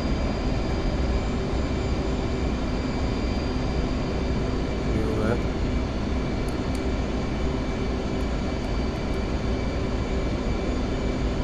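A steady airplane engine drone fills a flight simulator game session during a landing approach as throttle is pulled back, a constant hum with faint tones, with a person talking over it.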